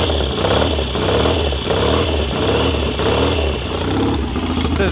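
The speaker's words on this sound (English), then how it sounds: "So it's very loud with those pipes," Straight-piped 1970 Triumph TR6R Desert Sled motorcycle revving close by, a loud pulsing exhaust rising and falling in roughly rhythmic throttle blips for about five seconds, with no speech.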